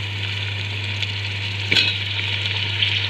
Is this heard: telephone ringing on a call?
no